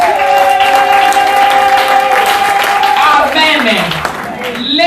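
A church congregation applauds and cheers in praise, a dense, steady wash of clapping that stays loud throughout, with sustained musical tones and voices ringing over it.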